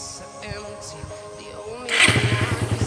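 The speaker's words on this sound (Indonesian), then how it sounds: "Oke, starter satu kali aja guys ya. Nah, itu sudah hidup ya motor ini ya." A Suzuki Satria FU 150 motorcycle, previously hard to start, starts on a single press of the electric starter: a brief cranking whir, then the engine catches and settles into a loud, steady, rapid idle putter close by.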